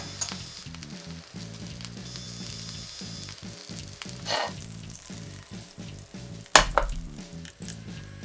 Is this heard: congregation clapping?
no